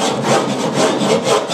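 Rough sandpaper rubbed over wood in quick, rhythmic back-and-forth strokes, a close, loud scratchy rasp heard alone.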